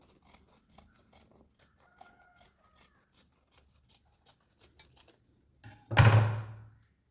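Scissors cut cloth along a marked line for a kurti neck, giving a close, regular series of crisp snips followed by one louder thump or rustle at the end.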